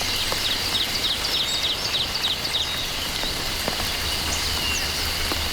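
Steady rain patters on the leaves of a nutmeg yew forest, a continuous close hiss of drops with occasional louder single drips, while faint chirping insects or frogs sound in the background.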